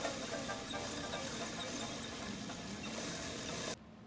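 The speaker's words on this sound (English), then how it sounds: "I started taking a lot of clips of me sewing" Sewing machine stitching a top, a close, steady mechanical whir with a fast rattling rhythm that runs for under four seconds and then stops abruptly, with no one speaking.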